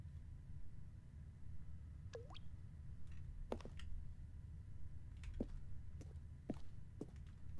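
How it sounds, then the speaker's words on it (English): Water drips in the Stanley Parable video game, with a series of sharp, quiet plinks and drops falling at an irregular pace over a low, constant ambient hum. "Dripping."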